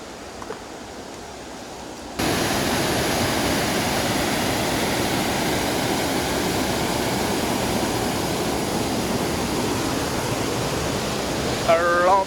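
A waterfall running with high water roars as a loud, steady broadband rush that starts abruptly after a quieter opening, with a brief voice near the end.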